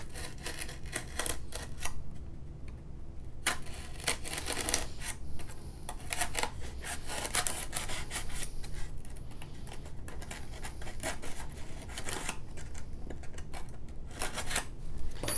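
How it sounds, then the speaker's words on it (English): A razor blade scores foam sheet along marked lines for a Mighty Mini FW-190 model plane build, giving a steady run of close, crisp clicking and scratching ticks with scattered sharper snaps, no voices. "Using a razor blade, we're going to make a cut along those dotted lines"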